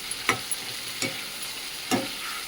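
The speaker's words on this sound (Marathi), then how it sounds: "हे मिक्स करून घेते मी" Cowpea curry masala stirred in a pan, three distinct scraping strokes of a spoon at an even pace over a soft steady sizzle, close and clear with no talking.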